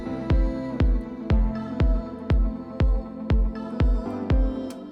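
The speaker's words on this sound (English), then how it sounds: "So I'm gonna add a drum. I'm gonna add a kick." Simple electronic kick drum sample for an Afro house track thumps ten times at an even, quick four-on-the-floor pace, each hit punchy and deep over a faint chordal pad, no voices.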